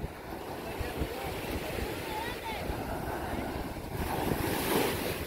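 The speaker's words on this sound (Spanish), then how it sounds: "Ahorita que venimos se puso más bravo el mar." Rough sea waves roll onto a beach in a steady loud wash of surf and wind noise. The roar swells near the end, and people talk over it.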